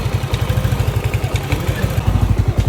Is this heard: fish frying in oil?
no